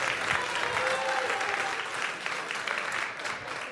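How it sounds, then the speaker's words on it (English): An audience gives a sustained round of applause at the CPA Masque 2022 event, a dense, steady wash of clapping that holds at a constant level throughout, with no voice rising above it. "Let's give Jim one more round of applause for working that hard and talking so much."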